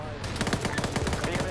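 Rapid AK rifle fire in a shooter game, a fast rhythmic burst of about a dozen loud, evenly spaced shots close by.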